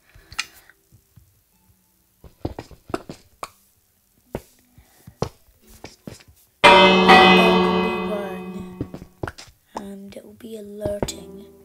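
Video game bell from a Minecraft villager bell tower rings loudly once and decays over several seconds, with scattered soft clicks and game sounds before and after.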